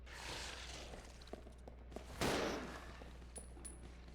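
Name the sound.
gunshots in video game Resident Evil 0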